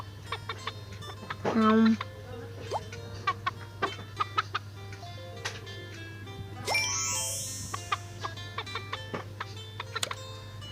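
Cartoonish chicken clucks and chimes from a baby bird mobile game play over a steady electronic hum, with short bright game blips and a rising sparkle effect, while a person speaks softly.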